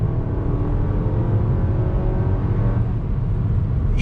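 A 2020 Cadillac XT4 luxury crossover SUV under throttle, a steady, smooth, muted engine hum with a slight rise in pitch, heard from inside the cabin with no talk.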